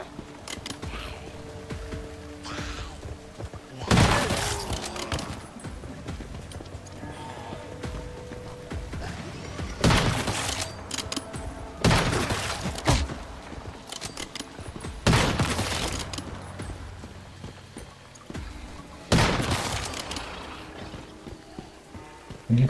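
Gunfire in the video game Once Human comes in four loud, sharp bursts spaced a few seconds apart, with a low background hum in between.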